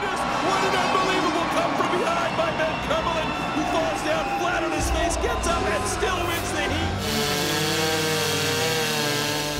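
A STIHL stock saw chainsaw roars loudly and continuously through a timber cut at a timbersports competition, with a voice talking over the engine noise.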